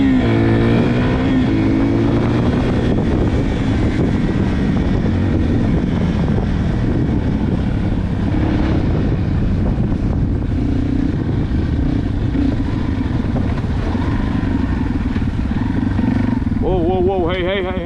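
Yamaha Big Wheel motorbike ridden outdoors, its engine droning steadily and loud with wind buffeting the microphone, while a rider talks over it.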